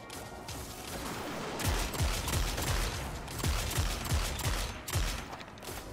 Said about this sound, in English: The scout rifle sounds so good.